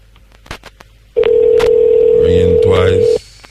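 A single long steady telephone ring tone, loud and close, lasting about two seconds, with brief talk and background noise around it.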